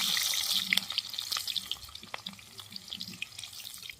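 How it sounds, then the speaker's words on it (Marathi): Chillies and onion frying in hot oil make a steady crackling sizzle at close range with small pops, no one speaking. "तेल तापलंय, आता मिरची घेते टाकून. त्याच्यानंतर लगेच कांदा टाकून घेते."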